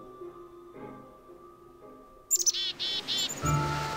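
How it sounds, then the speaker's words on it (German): Bright, chirpy bird calls from a Minecraft game world burst in after a quiet start, with several rapid tweets repeating in close succession and fairly loud. "Hör mal, wo sind die Vögel?"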